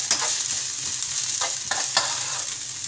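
Wine splashing into a pan of mussels in fishermen's sauce, setting off a steady sizzle with stirring scrapes and a few sharp bursts of hissing, close and fairly loud throughout.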